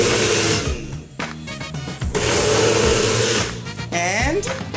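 Kitchen blender whirring as it mixes a smoothie, a loud close motor whine that pulses on and off in short bursts with brief pauses and pitch shifts between them.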